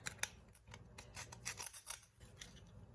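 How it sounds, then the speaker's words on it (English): Quick rasping scrapes of a whole nutmeg rubbed over a small grater, in short irregular bursts, close by and fairly quiet. "And grate some nutmeg in there."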